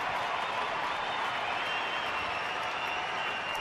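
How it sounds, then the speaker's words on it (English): Baseball crowd at a Diamondbacks home game against Houston on their feet, cheering and applauding in a steady, distant wash of clapping and roar. "The crowd on their feet. They're into it."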